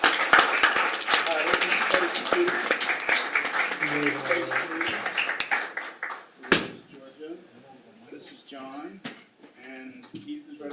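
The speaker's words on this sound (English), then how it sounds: "we will applaud you on your way down" A city council meeting crowd applauds departing council members with a dense burst of clapping that fades out after about six seconds, followed by a knock, shuffling and voices talking in the room.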